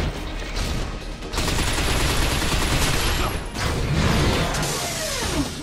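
Loud, dense gunfire in the video game Binary Domain, sustained automatic bursts with mechanical clatter filling the clip almost without pause.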